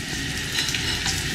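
Loud, close sizzling of dried mackerel frying in oil, a dense crackling hiss with a few sharper pops, continuous and with no voices.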